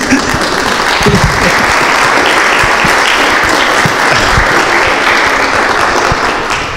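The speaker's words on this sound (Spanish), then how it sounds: "necesito que ustedes aplauden al ICA y al expositor" Loud, close applause from an audience at a talk on organic waste, dense clapping sustained for several seconds before tapering slightly at the end.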